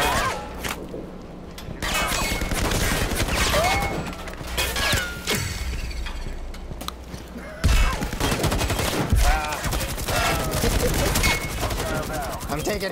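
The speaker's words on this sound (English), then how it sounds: "I'm taking heavy fire" Heavy gunfire in the shooter Firewall Zero Hour: dense, loud automatic bursts and rapid single shots crackle almost without pause, with impacts and smashes mixed in and occasional voice chat underneath.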